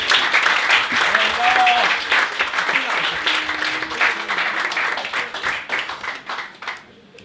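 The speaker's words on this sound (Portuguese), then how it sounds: "E batam palmas para o Hugo Soares" A stand-up comedy audience applauds for comedian Hugo Soares, sustained clapping that stays fairly loud before tapering off, with speech mixed in early on.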